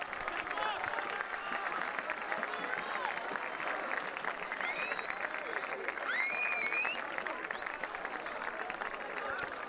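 Spectators on the sideline clap at a South African high school rugby game between Jeppe and Westville, a faint, distant patter of scattered applause mixed with crowd murmur and a few whistle-like chirps.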